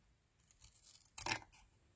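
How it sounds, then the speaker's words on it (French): Scissors snip through paper while an envelope is being cut, one quick crisp cut standing out against a quiet room, faint and close. "Et bien sûr, on va couper ici."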